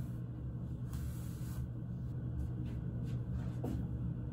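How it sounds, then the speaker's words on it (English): Heat protectant blow-dry spray misted onto hair at home, a few soft hissing bursts close to the microphone over a steady low room rumble. "This is just heat protectant, blow dry spray."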